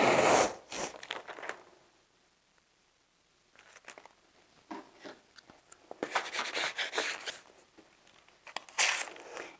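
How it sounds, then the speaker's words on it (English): Paper transfer tape being pressed and smoothed onto a vinyl surface, giving close crinkly rustles and scraping bursts that start loud, fall to near silence midway, then return in dense sweeps. "You're first going to want to apply your paper transfer tape to your vinyl surface."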